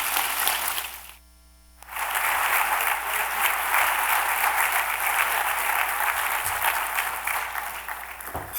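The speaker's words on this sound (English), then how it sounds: "Can we give a big round of applause?" A large audience at a regional planning State of the Region event breaks into loud, sustained applause after a brief quiet gap, dense clapping continuing to the end.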